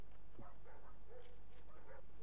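A dog in the video game Zula barks and yips a few times in quick bursts, heard faintly at a distance beneath a steady low rumble of game noise.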